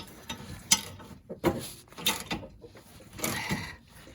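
A wrench ratchets in short clicking bursts while a bagger is installed on a John Deere E100 riding mower. The clicks come close and in uneven spurts, with brief pauses between them.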